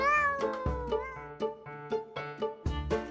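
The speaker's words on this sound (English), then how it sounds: "He also had a habit of meowing like a cat in conversations." A cat meows several times in a row, each call short and fairly loud with clear gaps between them.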